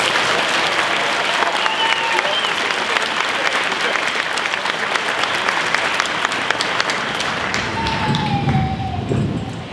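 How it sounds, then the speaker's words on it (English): A large crowd at a school's eighth-grade graduation ceremony gives a loud, sustained round of applause, dense clapping filling the hall for the whole stretch with a few louder claps standing out. "Let's give Jordan another round of applause."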